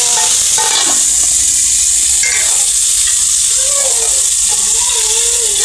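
Curry leaves sizzle loudly in hot oil with mustard seeds and cumin, a tempering for homestyle dal, a steady close frying hiss throughout with light stirring noises.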